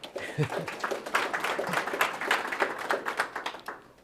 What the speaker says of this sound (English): So please give Mark a good round of applause.